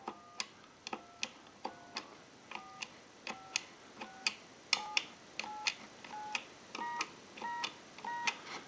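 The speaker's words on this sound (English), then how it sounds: "Now we want to dial out with our keypad." Keypad tones from a converted Wesco wood wall telephone, a steady series of short, evenly spaced beeps with clicks, about two per second, faint and close with no voices.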